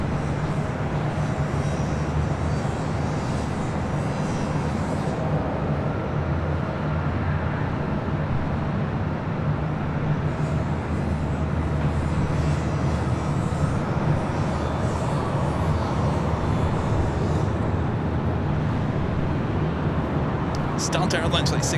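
An Airbus airliner on final approach to runway 24 left at LAX gives a steady, loud engine roar that holds throughout, with a broad low rumble and a faint hiss above it.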